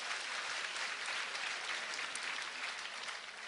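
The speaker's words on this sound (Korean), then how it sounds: "고생하신 시민들께 박수 한번 부탁드리겠습니다" Dense, even applause from a roomful of citizens at a Daegu citizens' roundtable meeting, steady and fairly quiet throughout the short stretch.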